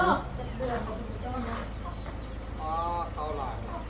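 Chickens cluck in short bursts close by, under steady background noise and a bit of talk.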